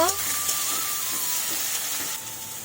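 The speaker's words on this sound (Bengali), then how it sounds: "রসুন একটু ভাজা ভাজা করে নেব" Garlic frying in a pan gives a steady, close sizzling hiss that runs evenly through the whole short stretch with no pauses.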